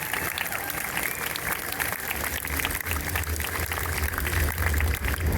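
A crowd at an outdoor forest march applauds, a dense continuous patter of many hands over low rumble and murmur, with a few voices mixed in.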